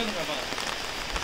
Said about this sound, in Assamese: ইমান বৰষুণ দিছে বাপৰে